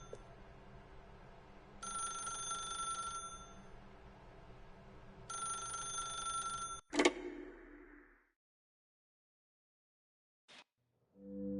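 A telephone rings in the video game The Stanley Parable, two bright ringing bursts followed by a sharp clunk as it cuts off. After that comes near silence and one brief faint blip.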